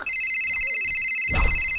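A telephone rings inside the Roblox game, a steady electronic ring tone sounding continuously and fairly loud, with a brief dull thump near the end and no talking.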